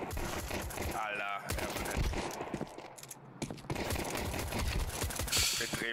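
Rapid gunfire from Counter-Strike 2 rattles in dense bursts, with sharp clustered shots and mechanical clicks, a short lull midway, then more firing, mixed with game effects.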